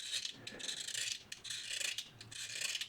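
Old glue is scraped from a guitar nut slot with short, close, repeated rasping strokes in an uneven rhythm, quiet and with no talk.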